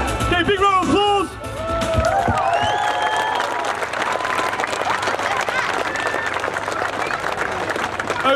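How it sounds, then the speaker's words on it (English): Audience applause and crowd noise at the Sunderland Air Show after a ground display, starting with a short burst of voices, then steady clapping and cheering that carries on at full level to the end. "Okay, big round of applause."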